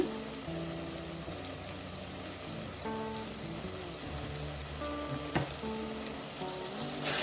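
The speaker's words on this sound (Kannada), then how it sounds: "ಸ್ವಲ್ಪ ಚೆನ್ನಾಗಿ ಫ್ರೈ ಮಾಡ್ಕೊಳ್ಳೋಣ" Masala with ginger paste, garam masala and herb powder frying in a pan for Bhatkal mutton biryani, a steady close sizzle with crackling pops, alone and without voices.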